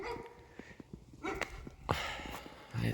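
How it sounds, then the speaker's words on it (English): Dogs bark a few times at a distance outdoors near a vegetable garden, short yips and barks scattered among faint footsteps and rustling. "You got dogs barking."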